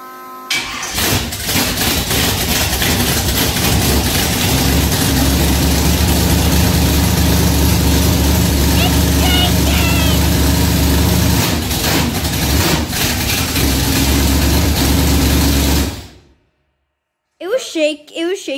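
A 1966 Chevrolet Nova engine with no exhaust system cranks, fires and runs loudly, a deep rumbling idle with revs that shake the ground, then cuts off abruptly, followed by brief voices.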